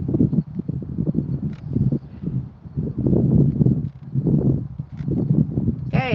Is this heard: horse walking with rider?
yes